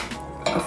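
Metal spoon scraping ingredients into a small pan, a brief close clink and scrape of metal on cookware, with no voices.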